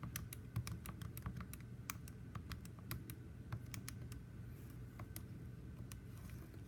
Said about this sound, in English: I'm going to press enter, and I'm going to type in those numbers.